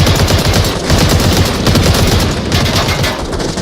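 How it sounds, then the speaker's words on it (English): Grenades exploding in the Onward VR game during a competitive match, a loud dense barrage of overlapping blasts and rapid gunfire that continues without pause. "More grenades exploding."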